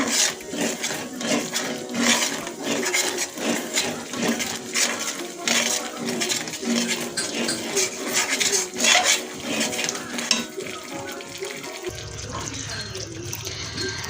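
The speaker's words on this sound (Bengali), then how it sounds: "পাঁচ মিনিট আমি কষিয়ে নেব বারে বারে নাড়াতে হবে" Cauliflower and nuts being stirred and fried in a pan for a vegetarian cauliflower roast, with repeated scraping and clattering of the spoon against the pan over a low frying hiss.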